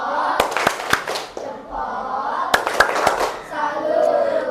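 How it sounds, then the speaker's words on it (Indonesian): Primary-school pupils perform a patterned clapping routine, sharp individual claps in small rhythmic clusters separated by gaps, with children's voices chanting and talking between and around the claps. "Kita beri tepuk salut biar semakin semangat lagi."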